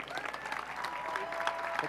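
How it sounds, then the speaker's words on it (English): An audience clapping at an Army All-American Marching Band event, a dense wash of applause from a crowd that is steady and moderately loud, with faint voices mixed in. "Please give her a round of applause."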